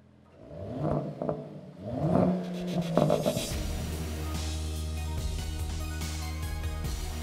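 A large Mercedes-Benz luxury coupe SUV engine starts with a few coughing turns, then settles into a deep, steady idle rumble close by, with no talking.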